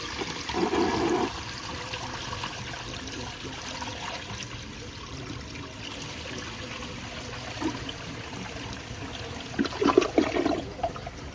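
A 1985 Briggs Conserver toilet is flush-tested, with a rushing flush of water followed by steady trickling as the tank refills, and gurgling near the end.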